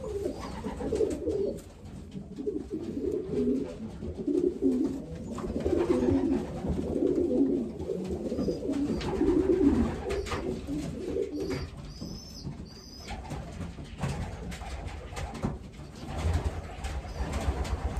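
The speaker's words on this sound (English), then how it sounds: "Really nice bird here" Racing pigeon imported from a small Dutch loft, cooing in low, rolling, repeated phrases close by, steady throughout with faint higher chirps from other birds in the background.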